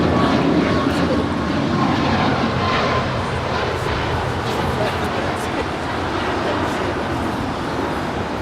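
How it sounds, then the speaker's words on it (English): Air Canada Boeing 737 MAX 8 jet departing Los Angeles for Vancouver, a steady broadband engine roar holding loud and close throughout, with a faint radio voice behind it. "That is Air Canada Flight 555 departing to Vancouver on a 737 MAX 8."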